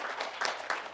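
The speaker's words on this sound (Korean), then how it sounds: "박수 한번 드리죠." A studio audience at a Korean presidential candidate debate gives a brief round of applause, a dense wash of clapping heard up close for about a second.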